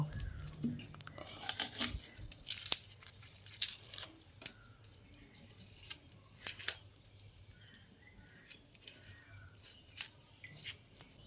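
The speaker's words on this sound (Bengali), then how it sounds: "এবার একটা পেঁয়াজ নিয়েছি, এই পেঁয়াজটাকে কেটে নেব।" An onion being sliced with a knife for a fish-oil recipe, making close, crisp cuts and crunchy taps in uneven bursts over a quiet background.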